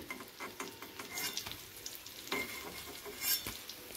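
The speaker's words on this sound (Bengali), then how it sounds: "ডিমগুলোকে আমি এপিট ওপিট করে ভেজে নিয়েছি" Boiled eggs fry in oil in a pan, turned over from side to side, giving a soft steady sizzle with repeated stirring scrapes and light utensil clicks, close and fairly quiet, with no talking.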